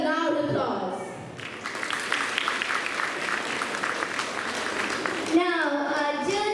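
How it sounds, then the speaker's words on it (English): Loud audience applause for student musicians after a cultural program of country dances, a dense burst of clapping that fills most of the moment, bracketed by a speaking voice before and after. "Let us appreciate their efforts and talent with your loud applause"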